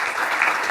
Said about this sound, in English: please bring your hands together for Indrajit Gupta and team Founding Fuel